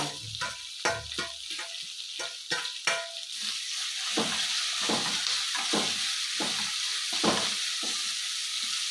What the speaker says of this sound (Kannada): ಈಗ ಕೊತ್ತಂಬರಿ ಸೊಪ್ಪು ಹಾಕ್ಕೊಳ್ತೀನಿ ಬೇಗ ಬೇಗ ಬಾಡ್ತಾ ಇದೆ